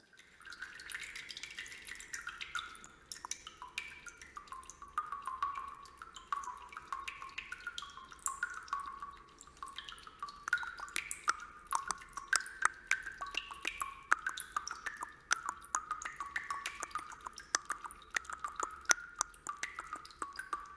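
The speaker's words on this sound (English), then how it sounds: "cistern in the bathroom. It's our toilet." Water drips inside a toilet cistern in a bathroom: faint, irregular plinks and small pinging drops repeat quietly over a long stretch, with no other sound.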